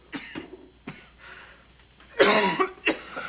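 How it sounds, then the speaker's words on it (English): A few harsh coughs close by, two short ones then a louder, longer hacking burst followed by one more cough. "Stop coughing, lad."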